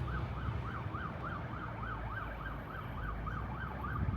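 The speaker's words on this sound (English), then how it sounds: "there has been a police chasing happening at the moment" A police car siren wails up and down in a rapid, regular pattern during a police chase in an Australian town, moderately distant, over a rumbling road-noise background.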